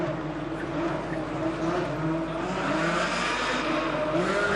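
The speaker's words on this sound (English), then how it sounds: "Racing drivers in Ferrari 360 Modena Challenge cars." Ferrari 360 Modena Challenge race cars lap a tight circuit at the 2004 Race of Champions with a loud, steady engine drone. The pitch wavers slightly as they power through the corners.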